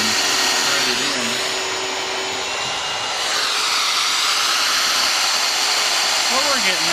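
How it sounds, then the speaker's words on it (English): A power drill whines continuously and loudly, driving deck screws into a hard steel trailer deck, the steady high motor noise filling the whole stretch with faint voices beneath. "I think the steel's really, really hard, because that other drill would drill right into mine."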